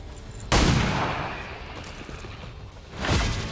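Pistol fire in the XCOM 2 video game: a loud, sharp game gunshot bursting in with a long noisy tail, followed a few seconds later by a second heavy blast, no talking.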